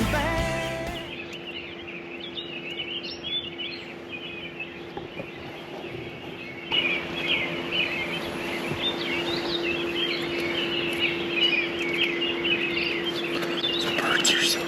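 Birds chirp and twitter continuously around a morning campsite, a dense layer of overlapping calls at moderate distance over a steady background hum, with faint low voices underneath.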